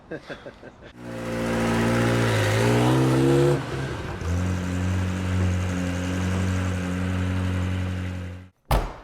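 A Ferrari F355 V8 engine drives along under steady load, rising and revving strongly before settling into a sustained drone with a brief blip at the end, loud and close throughout.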